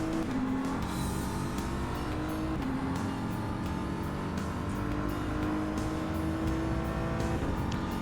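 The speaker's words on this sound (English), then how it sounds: "Without stalling, let's take the BMW for a spin." BMW M4 GT3 race car engine in the rFactor 2 racing game, a loud steady drone with pitch rising through the gears and several upshift drops, alone with no talk.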